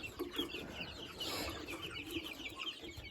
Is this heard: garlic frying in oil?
no